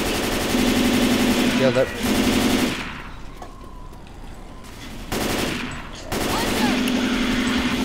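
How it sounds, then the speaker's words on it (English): NPC gunfire in Left 4 Dead 2 rattles as sustained automatic bursts, loud and continuous, pausing briefly midway before resuming, with a short spoken remark in between. "I don't know why that NPC is just shooting random crap"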